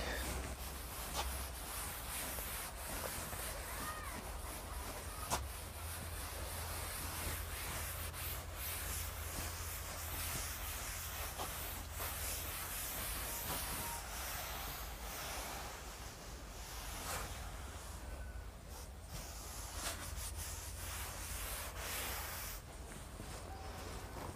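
A board being erased during a lecture gives a steady, faint rubbing and scrubbing that runs continuously without pause.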